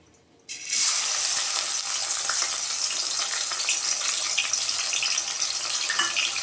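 Chopped tomato hits hot oil in a pan on a gas stove, bursting into a loud, steady sizzle after half a second of quiet and frying on continuously.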